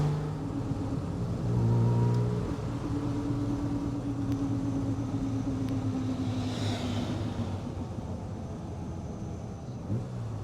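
A 1966 Ferrari 275 GTS on the road, its engine droning steadily with a faint gear whine from inside the cabin, a continuous close hum with a brief louder swell near the start.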